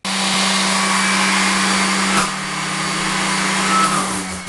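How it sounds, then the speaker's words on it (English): A power sander fitted with an 80 grit disc smooths the corner of a wooden workbench, a loud steady whir running without pause and dipping slightly in pitch partway through. "I'll remove the screw before coming around with the sander."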